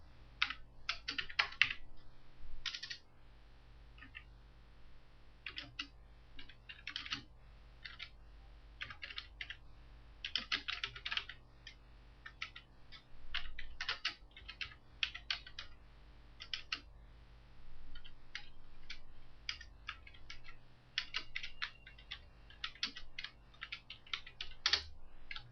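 Quiet, close keystrokes on a computer keyboard as an address is typed, coming in irregular bursts of clicks with short pauses between them.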